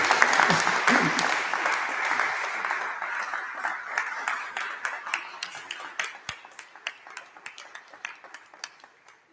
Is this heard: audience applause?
yes